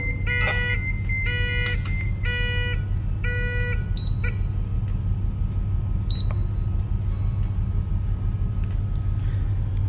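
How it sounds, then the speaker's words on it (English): A ship's water mist system alarm sounds four loud, evenly spaced buzzing beeps, then stops, leaving a steady engine-room machinery hum with a few faint electronic chirps. "Now you can reset the alarm."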